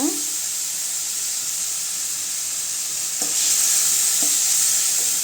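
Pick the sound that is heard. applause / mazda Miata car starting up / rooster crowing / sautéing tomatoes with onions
sautéing tomatoes with onions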